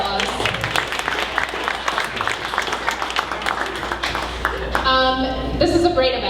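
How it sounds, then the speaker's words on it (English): An audience at a 1 Million Cups Dallas startup event gives a round of applause, a steady patter of clapping that carries on, with voices and chatter rising near the end. "So let's give them a round of applause."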